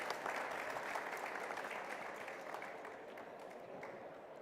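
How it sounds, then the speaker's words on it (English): A conference audience at an open source panel gives steady, sustained applause that fades slightly over a few seconds. "Can we have a round of applause for our wonderful panelists?"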